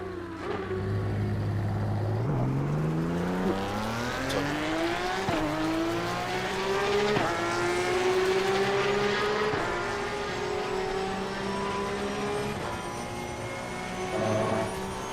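Porsche 992 Cup race cars in Assetto Corsa Competizione, qualifying at Kyalami, roar past with the flat-six engine climbing through the gears, sharp pitch jumps at each shift, loud and continuous, with no voices.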